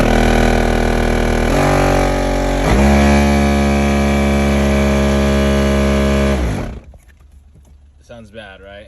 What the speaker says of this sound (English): having a issue with the blower fan motor. So take a listen on what happens when I turn it on.